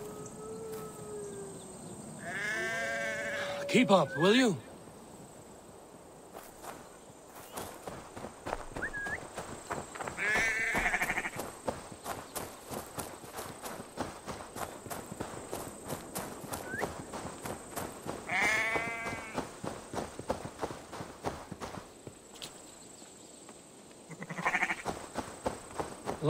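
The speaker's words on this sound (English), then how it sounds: "The sheep follows my whistle." Sheep bleat in Assassin's Creed Valhalla as the animal trails the player, with hoof-like clip-clop footsteps, game ambience and a character speaking between the calls.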